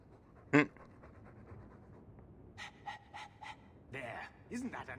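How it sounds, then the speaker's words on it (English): A dog in the Dragon Age 2 video game pants in short rhythmic bursts, close and moderately loud, with a sharp gasp near the start and spoken voices around it. "All that noisy dog breath, day in, day out."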